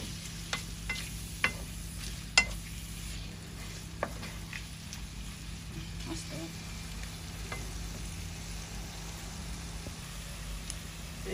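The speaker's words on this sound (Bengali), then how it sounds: "পেঁয়াজ ভাজা ভাজা হয়ে গেছে" Onions fry in a pan as they are stirred, with a soft, steady sizzle punctuated by a few sharp clicks and scrapes of the spoon, heard quietly without talk.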